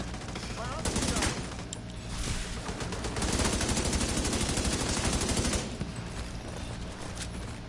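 Gunfire in the video game The Division 2 comes as dense crackling bursts, like fireworks, rattling on and off in rapid volleys over a loud background.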